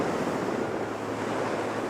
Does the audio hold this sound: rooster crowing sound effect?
no